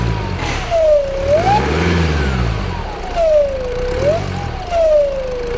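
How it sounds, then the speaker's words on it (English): A Mercedes 654 engine with a faulty turbocharger whines and rises in pitch in repeated sweeps, with a droning mechanical note and periodic surges like revving, loud and close. "it sounds like the turbocharger's turned into a supercharger"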